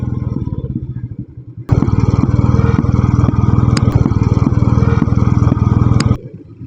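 A motorcycle engine runs steadily during a ride in mist, its loud, rapid exhaust beat jumping up sharply partway through, with a few sharp pop-like clicks on top of the continuous drone.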